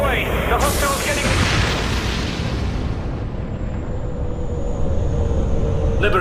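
A firestorm explosion from a science-fiction radio drama: a loud, deep rumbling roar blasts in and sustains for several seconds like a heavy burning blast, with a voice speaking over it.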